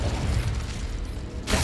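Confringo, the explosive spell in Hogwarts Legacy, goes off mid-duel as a rumbling magical blast, then a sharp, loud burst of impact erupts near the end.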